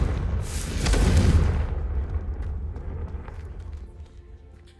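A single Confringo blasting spell bursts in Hogwarts Legacy, a loud close explosion swelling into a deep rumbling boom that slowly decays into a fading low tail, heard alone.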